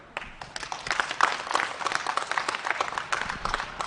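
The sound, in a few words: round of applause for the cattle show exhibitors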